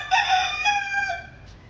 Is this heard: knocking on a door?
no